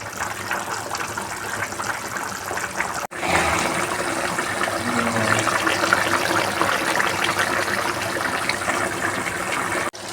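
Water poured into a pot of mutton qorma as it cooks, a steady gushing trickle that runs for several seconds, loud and close, with a short break near the start and another near the end.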